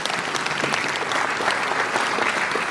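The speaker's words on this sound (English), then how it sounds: "A round of applause for him." Full, even applause from a student audience at a national economics debate in Kenya, steady and fairly loud throughout, with faint voices mixed in.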